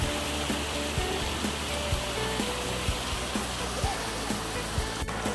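A mountain stream in a forested valley of the Chukryeongsan cypress forest in Jangseong, giving a steady, close rushing wash of water that continues unbroken throughout.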